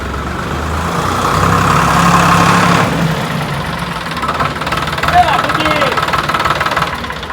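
Tractor engine running close by, a steady mid-pitched idling rumble with knocking, partly under people talking.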